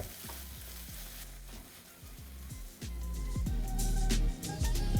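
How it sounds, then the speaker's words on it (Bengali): Tomato, spices and potato cooking in a pan give a soft frying sizzle, with periodic spoon scrapes and stirring clatter that grows louder toward the end. "তারপর আবারও ভালো করে মিশিয়ে নিয়ে দিয়ে দিন এখানে আলুটা"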